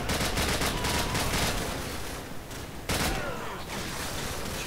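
Dense gunfire from Call of Duty 4, a sustained loud stream of shots with one sharp break midway, close and continuous, with a faint voice barely present.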